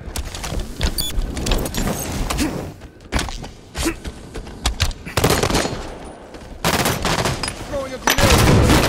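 Rapid automatic gunfire and explosions fill a Halo 5 Beta multiplayer match, loud and dense in repeated bursts with brief lulls, under occasional game announcer voice.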